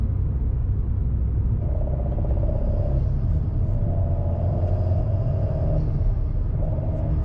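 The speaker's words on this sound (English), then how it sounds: "you really hear that intake on the left side of my head. This sucking sound is really nice." Continuous low rumble from an Alpine A110 tuned with RaceChip to 303 hp, recorded from inside while driving, with a faint intake whoosh swelling in short waves over the drone.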